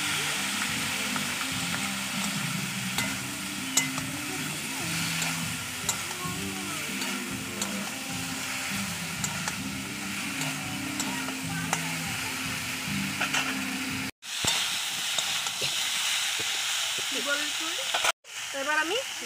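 Cumin paste and chili powder fry with pumpkin stems in a pan, a dense continuous sizzle with low rhythmic stirring and scraping, briefly cut by two sharp breaks near the end.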